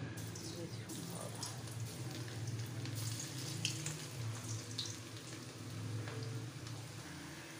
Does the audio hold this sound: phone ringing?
no